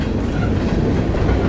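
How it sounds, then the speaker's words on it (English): A long freight train rolls along the tracks close by, giving a loud, continuous rumble with a steady clatter of wheels over the rails and no talking. "Yeah, so that train that almost hit us."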